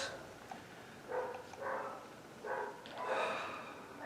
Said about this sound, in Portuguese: cães latindo, eu mereço.